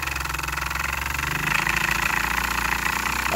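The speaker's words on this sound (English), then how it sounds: "I guess you could call this an oscillating or wobbler type engine" A homemade oscillating wobbler engine with a wooden frame, brass-tube cylinder and piston, and a key-light flywheel runs steadily and close, giving a fast buzzing, knocking vibration that grows a little louder midway.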